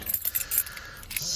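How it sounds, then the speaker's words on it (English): Car keys for a Jaguar V12 XJS jangling nearby in short, bright metallic clinks that rattle irregularly over little more than a second. "Where's the keys there?"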